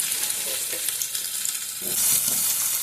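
Paneer cubes frying in hot oil for a restaurant-style Hyderabadi paneer gravy, a dense, close, steady sizzle that grows slightly louder and busier near the end.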